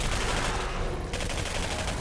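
Dense, continuous gunfire fills a first-person shooter firefight, a steady loud barrage with a brief dip in the highs midway before the rapid shots resume.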